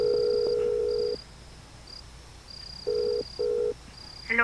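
A telephone dials out for a call: a steady tone gives way to two short, clean beeps of keypad tones, heard close with a quiet background and no voices.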